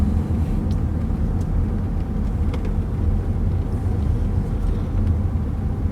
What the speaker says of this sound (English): No, it's just a car.